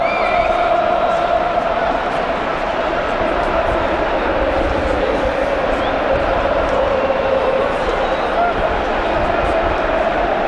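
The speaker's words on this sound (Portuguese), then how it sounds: "Que canta muito alto aqui na arena." Football supporters, likely Grêmio fans, sing loudly in a packed arena, a sustained roaring chant from the crowd that fills the space without a break.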